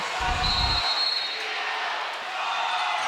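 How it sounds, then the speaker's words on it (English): A basketball crowd roars through a women's college game between North Carolina and Duke, a sustained broad rumble of cheering with a heavy low thump early on and faint squeaks of shoes on court. "We heard the crowd erupting when that happened"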